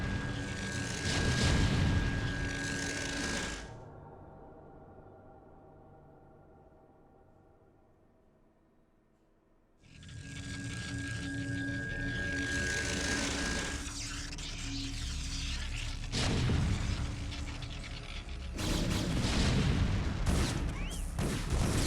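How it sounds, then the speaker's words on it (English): Explosions and weapon fire from StarCraft: Brood War Remastered as Terran vultures attack Protoss photon cannons, loud bursts and rumbling booms that drop to near silence midway before the battle noise returns. "these vultures are trying to take down some cannons"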